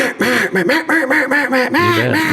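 Mallard ducks, greenheads, or a duck call imitating them: a loud, close series of rapid nasal quacks in an uneven rhythm, with no talking.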